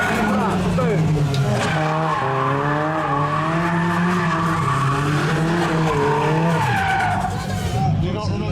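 Car skidding with all four wheels locked at a Fuel Fest car show, a loud, sustained tire screech with a wavering pitch and engine roar, close and continuous for several seconds before tailing off.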